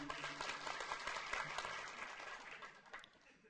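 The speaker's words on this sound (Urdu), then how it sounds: "ایک بار زوردار تالیاں بجائیے" Audience at a mushaira poetry gathering in Rampur claps in a burst of applause, a dense patter of hands that swells, holds, then thins toward the end, heard alone without talk.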